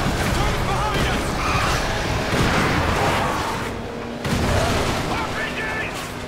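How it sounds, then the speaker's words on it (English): RPG rockets exploding during a vehicle fight in the Call of Duty Ghosts campaign, heavy booms and blasts layered over dense battle noise, briefly dropping away before the din resumes. "RPGs!"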